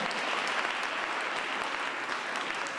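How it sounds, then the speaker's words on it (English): Dense, steady applause from a large audience at an evening Women's History Month celebration, continuous and loud throughout with no gaps. "if we can give them one more huge round of applause"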